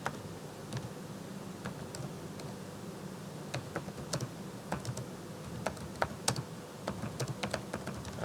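Light, rapid keystrokes on a computer keyboard as a formula is entered, irregular quiet clicks over a soft steady background hum.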